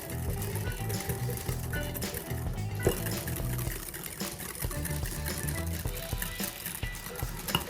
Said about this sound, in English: And this wire whisk will definitely help.